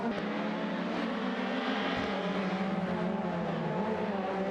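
Race cars in a racing game, a Peugeot 406 and a 1998 Ford Mondeo battling closely, their engines droning steadily and loudly with a continuous, slightly wavering tone and no pause.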